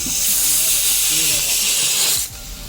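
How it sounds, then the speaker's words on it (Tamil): Mustard seeds spluttering in a spoonful of hot oil while tempering for instant tomato rasam, a steady loud sizzling hiss with faint crackles that drops away near the end. "இந்த கடுகு வெடிக்குது"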